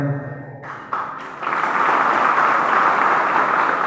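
Audience applause at a spiritual discourse gathering, starting with a few scattered claps and quickly swelling into steady, full clapping from a crowd, close and sustained, after a brief fading voice at the start.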